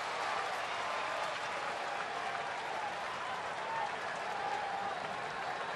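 Baseball crowd at a Mets vs Braves game cheering for Chipper, a broad, steady roar of applause and cheering that holds from start to finish, heard from a distance.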